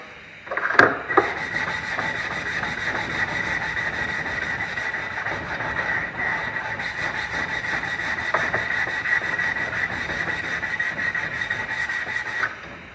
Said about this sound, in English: Just basically sand until that's all down nice and smooth. I'm using 180 grit on here.